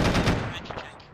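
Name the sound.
gunfire landing a headshot in an Arma video game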